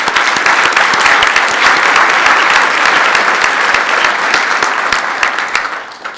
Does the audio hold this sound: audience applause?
yes